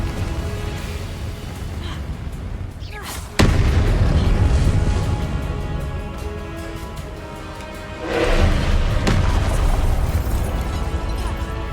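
Spell effects in the Hogwarts Legacy video game, ending in a Confringo fire blast: sharp booming explosions burst out around 3.5 and 8 seconds over a dense, continuous game soundscape of music and rumble, loud throughout.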